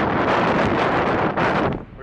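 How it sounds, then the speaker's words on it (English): Strong wind buffets the microphone in a constant roaring rumble, easing slightly near the end. "it is super windy outside"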